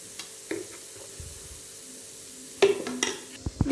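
Chili powder and pepper being stirred into a frying homestyle duck roast masala: soft scrapes and clinks of a spoon against the pan over faint sizzling, quiet at first, with sharper clattering strokes near the end.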